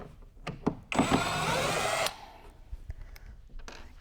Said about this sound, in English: we're going to use the Craig impact driver again to unscrew these screws.